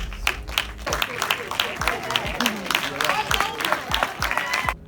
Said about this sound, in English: A round of applause for Amu Mauto.